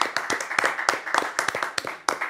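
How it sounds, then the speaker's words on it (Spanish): A small group clapping in a radio studio with no audience, close, rapid hand claps in an uneven rhythm, a few people only, with no talk over it. "después de esta íntima ovación"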